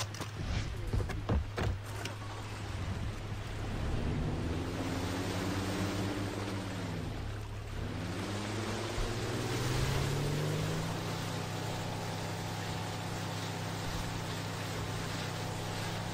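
A boat ride in the video game Far Cry 3 brings a steady, droning motor hum with pitch swells as the engine revs, over a continuous wash of water and waves.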